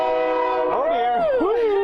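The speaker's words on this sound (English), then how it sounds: "Right next to the train tracks." A loud train horn sounds from close by, right next to the tracks near a parked van at a farm, holding a steady tone and then bending in pitch as it continues.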